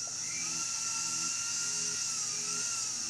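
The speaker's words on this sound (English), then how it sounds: "I'm gonna use the sandpaper disc" A rotary tool spinning a sandpaper disc shapes a metal ring for a pair of doubles, giving a steady high whine with a sustained, even grinding tone close by and a slight pitch wobble throughout.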